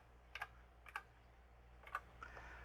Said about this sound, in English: And if I type list,